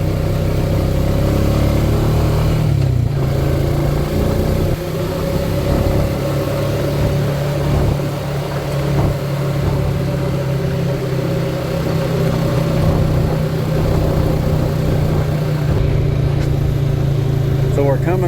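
An off-road vehicle rolls along a gravel road near Windrock Park, its engine droning steadily and loud throughout, with tire rumble and crunch beneath and someone talking over it.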